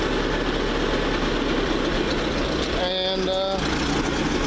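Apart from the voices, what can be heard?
vehicle engine idling down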